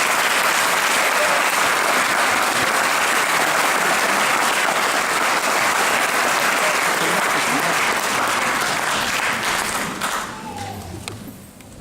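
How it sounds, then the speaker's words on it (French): An audience greeting a guest with sustained, loud applause, a thick wash of many hands clapping that fades toward the end. "sous vos applaudissements s'il vous plaît"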